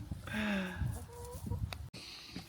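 Hens clucking around a family camping-car stop, a run of harmonic clucks and squawks close by, with a brief gap near the end.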